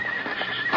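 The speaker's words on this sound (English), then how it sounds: "There were only 3 or 4 horses out in front" Horses outside a schoolhouse in a 1950s Western radio drama give a brief, loud, close neigh lasting under a second.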